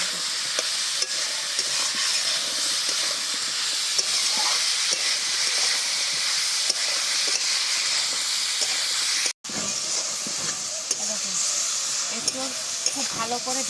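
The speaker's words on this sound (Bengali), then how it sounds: "এঁচড় ভাজার সময় একটুখানি নুন দিয়ে দিচ্ছি" Young jackfruit sizzles with salt in a hot pan, a steady, loud hiss of frying with occasional stirring scrapes throughout, one very brief cut midway.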